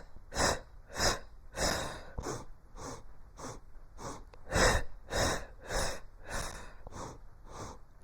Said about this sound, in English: So I'm going to inhale.